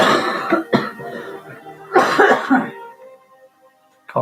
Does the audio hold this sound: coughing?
yes